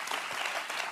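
An audience at an event where Andrew Cuomo appears claps steadily through the whole moment, a dense wash of hand claps heard alone.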